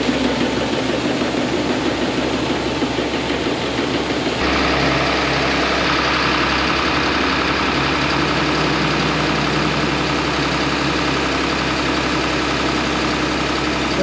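A swing-away grain auger with a small jump conveyor unloads the hoppers of a new truck trailer, and a loud, steady engine drone with a low rumble runs continuously for the whole stretch, with no talk.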